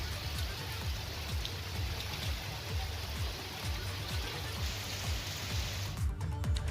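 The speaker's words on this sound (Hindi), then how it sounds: "इटावा में कल से हो रही लगातार बारिश के कारण जगह जगह पानी जमा हो गया है" Continuous monsoon rain falls in Etawah, India, with steady drops pattering on surfaces close by, dense and even throughout before easing slightly at the very end.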